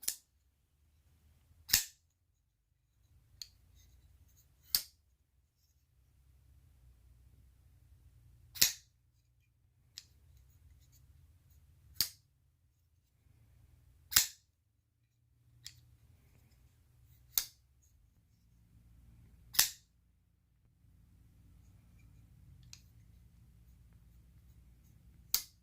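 A Kershaw Bareknuckle manual flipper knife with a strong detent snaps open again and again, each sharp, crisp click standing alone against near silence, with faint handling noise between.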